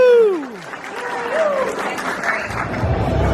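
Audience applause rises at a comic con panel, a broad steady clatter of clapping filling the room after a voice whoops with sliding pitch at the start; it grows thicker and fuller toward the end.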